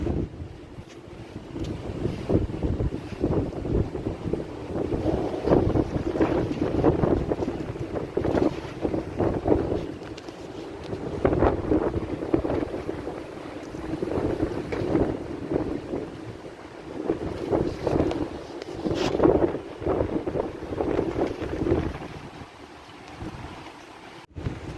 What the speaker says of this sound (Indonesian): Angin gede tapi nggak hujan.